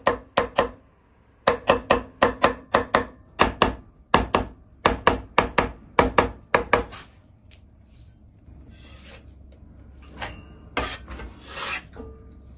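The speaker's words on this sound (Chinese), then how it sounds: "然后再切成粗细均匀的丝。" A kitchen knife shreds potato into even strips on a cutting board with a quick, regular run of crisp chopping strokes, then pauses before a few scattered cuts and a softer scraping follow.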